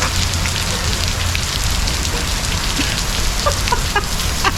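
Heavy rain pours down steadily at Ala Moana Beach Park in Hawaii, a dense, loud wash of drops with faint chicken clucks in the background.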